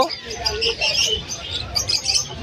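Hagoromo parakeets chirp in busy, overlapping bursts at a Malabon pet market, bright calls layered over faint background chatter.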